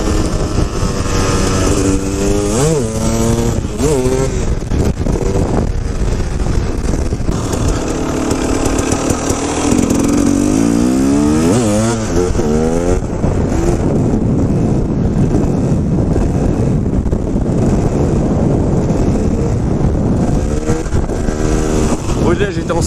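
A KTM 250 EXC two-stroke enduro motorcycle on enduro rims, ridden hard in top gear, its engine revving and pulling loud and continuous with rising and falling pitch sweeps, a voice talking over it.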